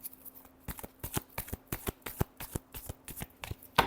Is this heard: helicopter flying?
no